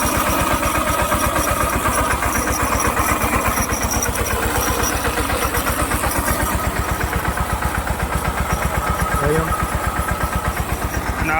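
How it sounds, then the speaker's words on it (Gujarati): A tractor engine runs steadily in a farm field during pesticide spraying, a loud, even diesel chug with rapid regular pulses throughout, while a voice talks faintly over it. "અત્યારે ટ્રેક્ટર હાલે છે 10 ઉપર"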